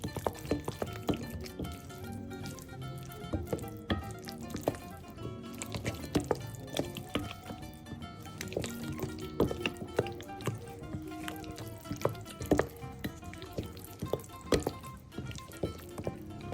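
Fusilli pasta being stirred with red pesto and grated pecorino, a steady run of soft wet squelches and sticky clicks close by, irregular and continuous with no talking.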